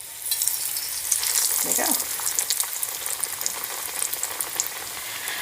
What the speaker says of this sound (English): Okay, my oil is preheated, going in.